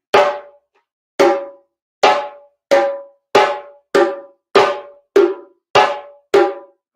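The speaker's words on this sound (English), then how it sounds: "So I'm going to play a slap sound." Ten sharp hand drum slap tones struck with the right hand, evenly spaced and speeding up slightly, each a bright cracking hit with a short ringing decay, loud and close with silence between strikes.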